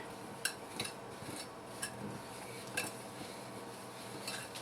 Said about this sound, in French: Là, on va fouetter.